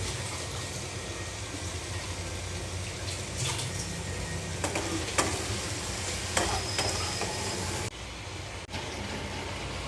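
Eggplant stir-fried with ground coriander, turmeric and chili powder, giving a steady broad sizzle with scraping stirs from a spatula in the pan, close and continuous throughout.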